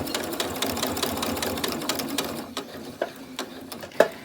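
A sewing machine stitches fabric for cord keepers about an eighth of an inch from the edge, with rapid rhythmic needle clatter that slows into a few separate clicks near the end, close and moderately loud.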